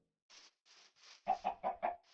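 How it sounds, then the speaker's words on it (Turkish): A chicken in Minecraft gives a few soft clucks followed by a quick run of four louder, close clucks, with silence in between. "Bu da tavuğumu."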